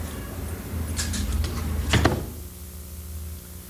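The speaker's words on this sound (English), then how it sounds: "Lock this door back." The door of a late-1980s photo shop swings shut with a couple of rattles and a firm clunk, followed by a quiet latch click, close by with no talking.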